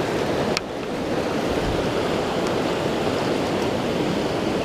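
High, fast-flowing water of Vallecito Creek rushing steadily nearby, a broad continuous roar with a little wind noise, no voices.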